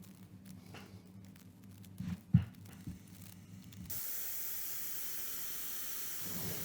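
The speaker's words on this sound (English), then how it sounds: "Using a blowtorch here as well to heat up the big pieces of steel before I weld them" A blowtorch heats large pieces of steel before welding, starting as a quiet low hum with a few knocks, then opening into a steady, loud roaring hiss that runs to the end.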